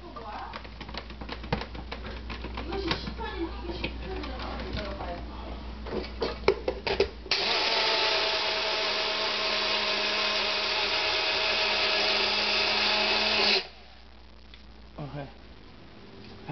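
Grand Stump Remover granules are ground up, first in quick uneven scraping taps under talking, then in a loud, steady, buzzing grind lasting several seconds, followed by a few softer scrapes.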